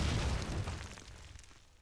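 A late-thrown grenade bursts in a Call of Duty 2 multiplayer match, one heavy boom that rumbles and fades out over about two seconds.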